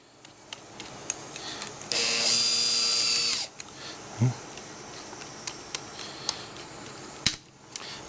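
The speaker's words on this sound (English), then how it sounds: "according to the instructions, you're going to take your 1/4-inch drill bit" A 1/4-inch bit in a power drill makes one steady high whine lasting about a second and a half, up close, while mounting latch lights on a 2024 Harley-Davidson Road Glide. Scattered clicks and handling noises come before and after.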